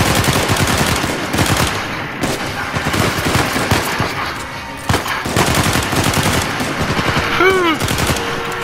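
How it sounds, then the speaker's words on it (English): Rapid automatic gunfire and single shots in Uncharted 4, loud and close, rattling bursts continuing almost without pause, with a voice reacting over the shooting. "He shot him in the gut like 10 times."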